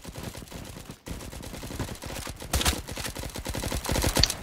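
Rapid automatic gunfire rattles through an online shooter match, with several bursts of fast repeated shots at moderate level and a brief gap near the start.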